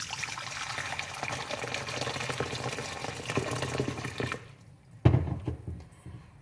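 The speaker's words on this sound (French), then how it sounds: "je mets en dessous mon eau chaude" Hot water is poured into a bowl set under a mixing bowl of eggs and sugar for a layer cake, a steady close rushing pour lasting about four seconds before it stops, followed by a dull thump.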